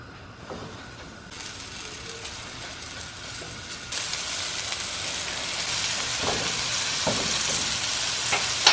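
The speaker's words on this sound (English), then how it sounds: "We're basically just trying to brown the steaks on both sides" Flour-dredged round steak sizzles and fries in a skillet, a steady broadband hiss that swells louder partway through, with occasional soft clicks and scrapes from the pan, no talking.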